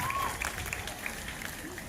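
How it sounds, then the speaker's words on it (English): Zoo audience at a fur seal show applauding, a continuous spread of clapping from a crowd with a voice over it. "you can give him a big round of applause"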